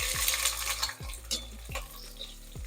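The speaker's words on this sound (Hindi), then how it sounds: "दरमियानी आंच पे करेंगे इनको गोल्डन ब्राउन" Finely chopped onions fry in oil over medium heat, a continuous sizzle broken by repeated scraping strokes of a spoon stirring against the pan.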